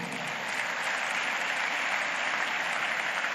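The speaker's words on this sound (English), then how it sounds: "Let us clap for our Governor Hope." An audience claps at a graduation ceremony in Imo, producing a steady, dense wash of applause from a large crowd that holds an even loudness throughout.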